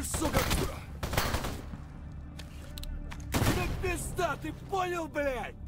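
Gunfire in S.T.A.L.K.E.R. G.A.M.M.A. comes as bursts of sharp reports, a dense volley at the start and another around the middle, with voices talking between and over the shots.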